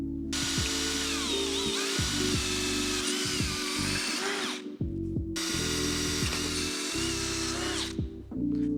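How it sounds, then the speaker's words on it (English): A power drill bores a pilot hole for a DIY Mustang transmission crossmember, whining loudly and continuously with pitch shifts as the bit bites, pausing briefly midway before spinning up again. "I'm gonna drill a pilot hole first."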